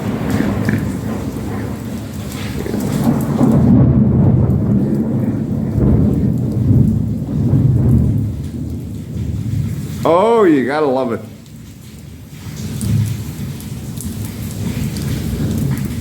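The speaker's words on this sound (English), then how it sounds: "we got a thunderstorm going directly overhead." Thunderstorm directly overhead in Mazatlan, with steady rain and low rolling thunder rumbling throughout, close and loud; a person speaks briefly over the storm.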